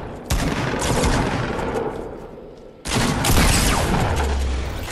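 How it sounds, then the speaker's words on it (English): Shotgun blasts in the battle royale video game Fortnite, two heavy booming shots about two and a half seconds apart, each with a long rumbling decay filling the gaps, loud and close. "I shotgunned him."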